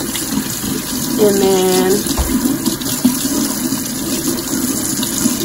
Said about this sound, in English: make sure you rinse everything out. Make sure there's no soap.